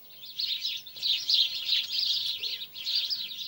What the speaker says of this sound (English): here is the song of a group of sparrows